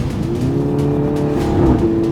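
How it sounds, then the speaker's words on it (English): A MINI Cooper S Carbon Edition engine revving with its valve exhaust opened, a loud sustained throaty drone that climbs slightly in pitch over a couple of seconds. "it basically kicks in that little valve exhaust system that this car now has, and opens up the valves a little bit"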